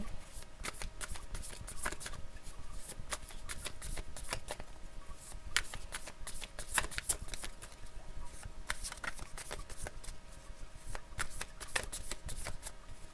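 Tarot cards being shuffled in the hands, a steady run of soft riffling flicks and papery patter with small bursts of louder snaps, close and fairly quiet with no talking.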